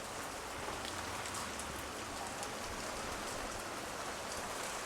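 Steady rain of the first monsoon shower in rural Maharashtra patters continuously on surfaces, a dense, even hiss with fine drop detail and no voices.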